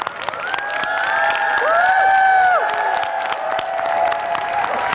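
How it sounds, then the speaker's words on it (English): A large crowd at a cultural festival claps and cheers, with whoops and shouts rising over steady applause while tonal sounds sweep above the clapping. "Let's all clap again."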